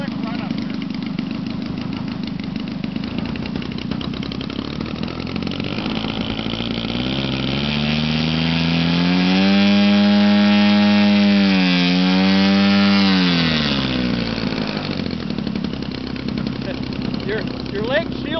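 A small airplane with a brand-new engine doing a run-up: a loud, steady close-up drone that revs up in the middle, holds briefly with a wavering pitch, then settles back to idle.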